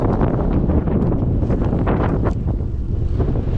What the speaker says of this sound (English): You can probably tell by the wind, and it's blowing me all over the road.